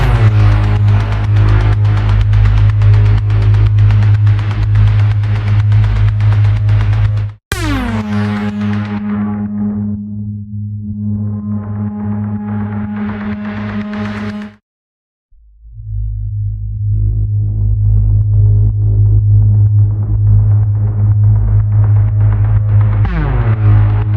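Laser-like synth patch from the Zero-G Elements Kepler instrument, a loud sustained tone with deep low drone and sweeping upper layers, cut off and restarting twice with a brief silence, heard alone.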